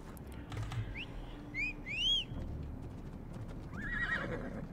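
A horse in Assassin's Creed Odyssey whinnies with rising, wavering calls and snorts, while hooves clip-clop softly underneath against a low background hum.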